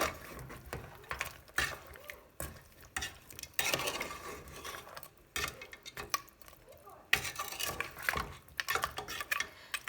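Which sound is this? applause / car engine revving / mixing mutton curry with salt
mixing mutton curry with salt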